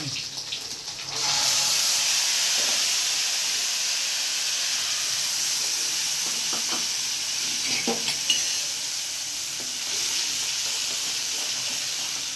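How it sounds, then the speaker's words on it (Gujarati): Cumin, dried red chilies, green chilies and asafoetida crackle and sizzle loudly in hot oil for a Gujarati tempering, a steady hiss with small pops and stirring clinks throughout. "હવે હું છે ને વઘાર મૂકું છું"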